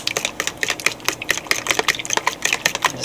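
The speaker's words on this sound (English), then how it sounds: "I'm going to whisk this together. And this is my batter for my French toast." A whisk beats French toast batter in a bowl, making fast, close, rhythmic clicking taps against the bowl's sides. The sound is continuous and fairly loud, with no talking.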